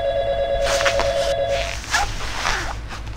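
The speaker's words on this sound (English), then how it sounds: "Phone call." In the video game Five Nights Before Freddy's, a phone ring sounds as a steady tone in a room with low hum, followed by a few soft bumps and shuffles, with no talk.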